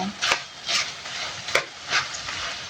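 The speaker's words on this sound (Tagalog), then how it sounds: "Ayan guys, nagpito ako ng tusino" Sweet cured pork (tocino) sizzles in a pan under a steady hiss, broken by several sharp scrapes and stirs of a utensil against the metal.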